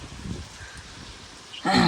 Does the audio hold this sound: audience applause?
no